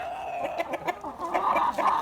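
Up close, a rooster clucks in a quick run of short, throaty notes that rise and fall over about two seconds.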